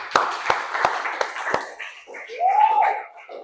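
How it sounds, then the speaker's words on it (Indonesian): A handful of evenly spaced hand claps ring out in a classroom, about five sharp slaps in a steady rhythm, before a voice starts talking. "tepuk tangan dulu"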